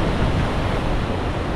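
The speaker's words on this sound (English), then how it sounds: "And look at these waves." Ocean surf crashes against lava rock cliffs on a Hawaiian shore, a steady loud roar of churning water and wind with no distinct break in the wash.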